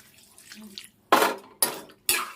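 Water added to a pan of cooking ivy gourd and potato with besan gives three short, close splashing pours in quick succession after a soft, muffled stir, with no voices.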